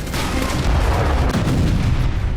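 Heavy, continuous rumbling booms of artillery fire, loud and dense, with repeated blasts blending into a roaring battlefield din.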